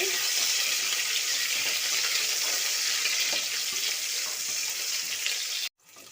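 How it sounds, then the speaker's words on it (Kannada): Onions frying in a pan for a vegetable pulao, a constant dense sizzle that holds steady before cutting off abruptly near the end, then resuming faintly. "ಈರುಳ್ಳಿ ಹಾಕ್ತೀನಿ ಈಗ ಚೆನ್ನಾಗಿ ಫ್ರೈ ಮಾಡಿ"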